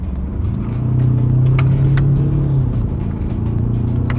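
A 2024 Ford Ranger Raptor diesel pickup in manual mode on twisty roads, downshifting to third with magnesium paddle shifters: a close engine drone swells in revs, then settles back, with faint clicks and no speech.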